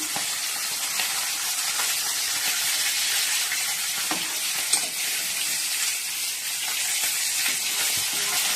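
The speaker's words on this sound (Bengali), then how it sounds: "এই জন্য মাছটা এখন ভাজছি।" Fish fries in a pan in a home kitchen, giving off a loud, steady, close sizzle with continuous crackling hiss and occasional small pops. The frying runs throughout with no voices.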